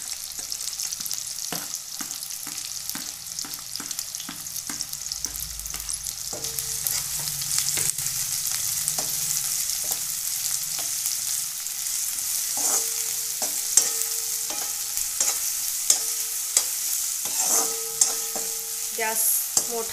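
Chopped onion, ginger, green chilli and garlic fry on high heat, a steady close sizzle broken by repeated scraping and tapping of a spoon or spatula against the pan, no voices.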